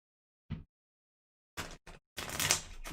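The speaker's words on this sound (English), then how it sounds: "So let me shuffle this up for some fans." Cards for the Moonrakers board game are shuffled in short, crisp bursts: a brief riffle, then two quick flutters and a longer rustling shuffle, close and fairly loud.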